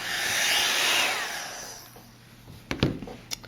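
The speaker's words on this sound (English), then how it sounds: "now I'm going to emboss this with my heat embossing tool" A heat embossing tool blows hot air over embossing powder on a card in a steady whooshing roar that cuts off partway through, followed by a few light taps and clicks on the work surface.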